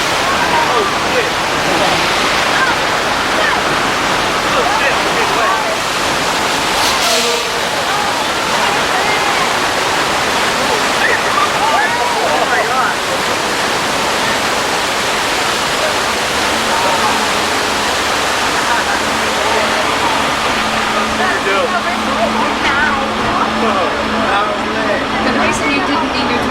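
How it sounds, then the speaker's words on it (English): Water gushes from a broken water main in a mechanical effect on the Universal Studios Hollywood studio tour, a loud, steady rushing roar filling the whole stretch without pause. "Unfortunately. The water main broke."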